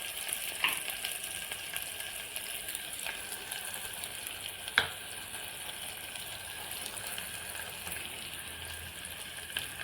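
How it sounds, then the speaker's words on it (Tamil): Large onions sautéing in oil in a home kitchen pan, a faint, steady sizzle that holds evenly throughout, with one sharp click about halfway through. "வெங்காயம் நல்லா பிரிஞ்சு வர அளவுக்கு நல்லா எண்ணெயில் வணங்க விடுங்க."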